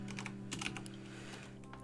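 Quiet typing on a computer keyboard during a live game development coding session, with a quick run of light clicks and taps over a steady background hum.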